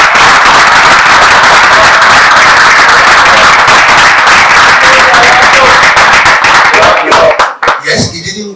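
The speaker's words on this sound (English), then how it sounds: "A round of applause for me." Dense, loud audience applause and cheering from a crowd at a youth lecture by the Ooni of Ife, filling nearly the whole stretch before breaking off abruptly into quieter scattered sounds at the end.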